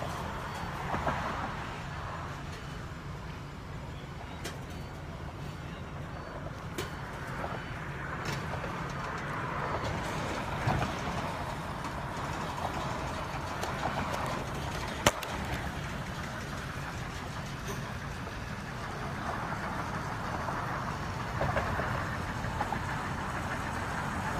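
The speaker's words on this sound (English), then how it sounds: "They are going to attempt to move this tractor trailer." A tractor-trailer engine idles in a steady, low rumble throughout, with faint knocking and occasional clanks, fairly close and continuous, at a highway scene.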